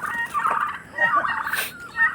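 Turkeys gobble close by in quick, warbling bursts, several calls overlapping over a couple of seconds.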